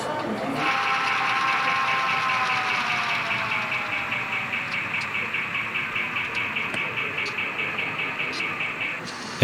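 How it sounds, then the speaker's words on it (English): Model train locomotive sound module at a large model railway meet, giving a steady engine drone with rhythmic chuffing pulses and a sustained whistle-like tone, fairly loud and close. "All of the engines used were equipped with sound and controlled by wireless throttles."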